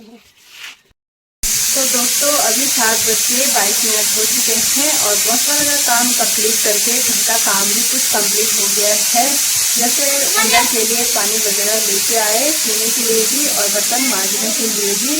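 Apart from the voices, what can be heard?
pressure cooker on gas stove boiling chickpeas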